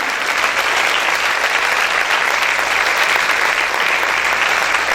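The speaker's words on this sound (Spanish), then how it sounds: "Si ese aplauso es para el Señor Jesús, déselo con fuerza" A church congregation applauds for Jesus during a sermon, a loud, dense, sustained wash of clapping from many hands that fills the room evenly for several seconds with no voices above it.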